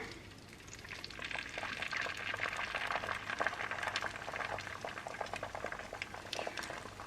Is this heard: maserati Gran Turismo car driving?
no